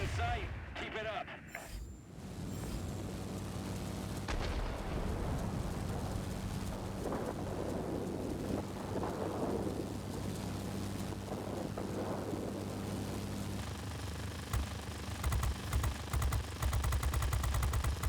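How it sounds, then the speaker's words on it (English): Thunderstorm in a video game: steady rain hiss with deep rolling thunder rumbles building in the middle, a few sharp cracks near the end, and game voice chatter mixed in. "There's a heavy storm here."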